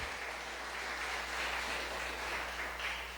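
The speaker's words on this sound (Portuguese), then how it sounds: "Você pode aplaudir o Senhor?" A church congregation claps together in a brief, even wash of applause, moderately distant over a low steady hum in the room.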